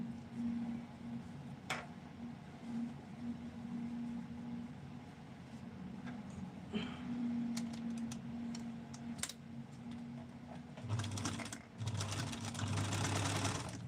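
A sewing machine hums steadily while stitching fabric at close range, with scattered ticks and clicks, then speeds into a louder, busier run near the end.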